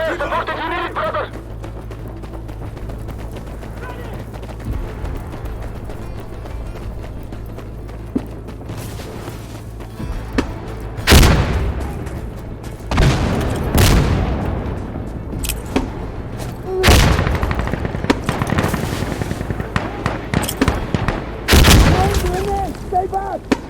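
Artillery fire support and gunfire in the video game Insurgency Sandstorm, with repeated loud booms and bursts of shots from about eleven seconds on over a steady rumbling battle bed.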